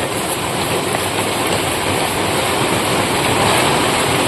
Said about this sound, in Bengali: রান্না করতে করতে বৃষ্টি এসে গেল।